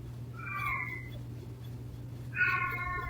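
A pet cat meows twice from somewhere behind, the calls drawn out and tonal, one early and one near the end, set over a steady low household hum.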